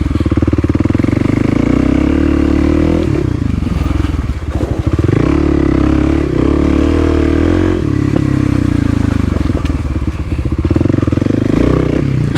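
Kawasaki KLX300 dirt bike ridden through a quarry, its single-cylinder engine loud and close throughout, revving and easing off in uneven surges with brief dips around throttle changes.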